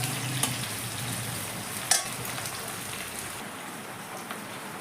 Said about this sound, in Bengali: এবার আমি বাকি যে পেঁয়াজটা ছিল পেঁয়াজটা ভেজে নেব